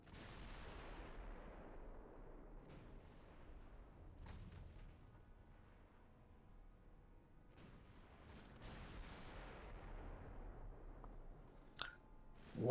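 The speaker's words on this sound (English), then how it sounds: "Yeah, they're all just ricocheting." Naval gunfire in the Ultimate Admiral Dreadnoughts warship game, with several distant booming shots rolling and decaying, shells ricocheting off armor, and a sharper louder impact at the very end.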